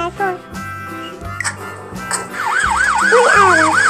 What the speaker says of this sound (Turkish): Bir araba. Ambulans. Ambulans.